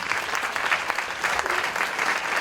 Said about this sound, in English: Let's give a big applause to them.